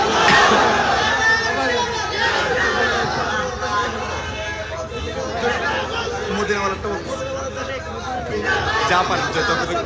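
A large crowd at an outdoor religious gathering shouts in loud, sustained unison, a dense mass of voices calling the takbir back to a preacher, steady from start to finish.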